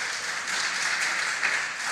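A room claps for a school team after quiz scores are read out at a Best Brain Academy contest: steady, fairly even applause filling two seconds, moderately loud, with no voices over it.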